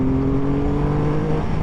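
Car accelerating in third gear, a loud steady engine drone heard from inside with a sustained tone slowly rising in pitch, no talk.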